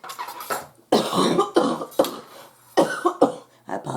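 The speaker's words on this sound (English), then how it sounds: "I apologize for any coughing" A sick, hoarse person coughs repeatedly in close, harsh bursts separated by short pauses, with no speech.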